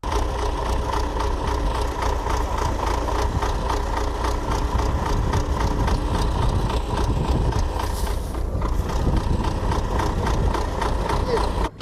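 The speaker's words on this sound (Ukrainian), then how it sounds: "Леонтій на тракторі подає важкі тюки" A farm tractor engine idles and runs steadily while heavy hay bales are moved, a continuous low rumble underneath, with a voice speaking over it.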